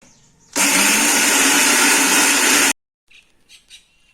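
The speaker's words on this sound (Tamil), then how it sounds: "இப்போ மிக்சியில் அடிச்சுட்டு சட்னி தாளிக்கிறத பார்க்கலாம்." A kitchen mixer grinder blends coriander chutney with tamarind and salt, a loud, dense whirring roar running steadily for about two seconds before cutting off abruptly, followed by a few faint clinks.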